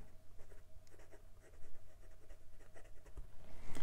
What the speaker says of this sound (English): It's decently wet for a fine nib, and the nib is very smooth with a hint of feedback.